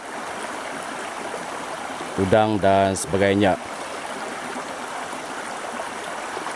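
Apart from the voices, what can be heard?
river water flowing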